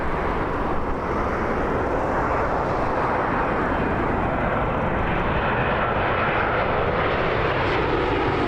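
A Boeing 747 passes at Toronto Pearson Airport with a loud, continuous broadband engine roar that holds steady throughout, close and dominant, with no voices.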